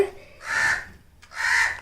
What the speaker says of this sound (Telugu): ఆ కాకులు ఊరికి అట్లా అరుస్తున్నాయి కదా